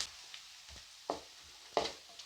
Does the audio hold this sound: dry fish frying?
yes